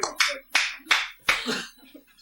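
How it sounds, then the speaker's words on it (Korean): A few sharp hand claps, about four spread irregularly over two seconds, each a crisp broadband burst, heard during a Buddhist sermon on the Śūraṅgama Sutra, with a faint voice between them. "박수 쳐 이거."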